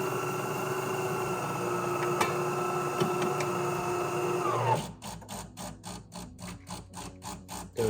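A De'Longhi Dinamica espresso machine circulating descaling solution gives a steady mechanical hum that abruptly switches to a rhythmic pulsing pump chatter halfway through, close and moderately loud.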